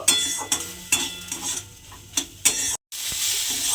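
A tomato and egg curry with garlic, onion and green chilli is stirred in a pan, with repeated scraping strokes of a utensil at an uneven rhythm over a soft sizzle, close by and briefly cut to silence near the end.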